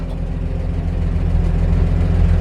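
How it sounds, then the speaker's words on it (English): A 1947 Chevrolet 3100 truck with its heater running, a steady low motor drone and engine idle hum that swells slightly louder over a couple of seconds, close and continuous with no talk. "Okay, yeah, you can hear the heater"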